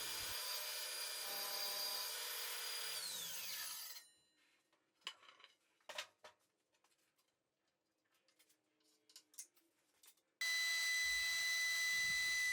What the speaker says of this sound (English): I can then use my table saw to rip the boards to width.